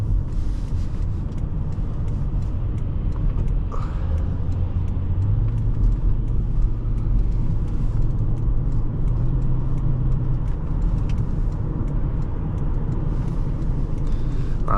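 A 1995 Lexus LS400 drives and accelerates, its engine a steady low rumble with road noise that swells gradually, heard from inside the car with no one speaking.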